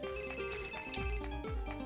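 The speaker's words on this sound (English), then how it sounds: "The phone continues to ring." A phone rings in the visual novel G-Senjou no Maou, a loud electronic ringtone melody repeating steadily over soft background music, with no voices.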